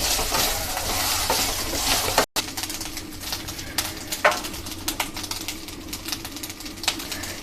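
Ingredients stir-fry in a pan, with a dense sizzle that briefly cuts out, then resumes more softly with scattered clicks and scrapes of stirring; faint bird coos sound in the background.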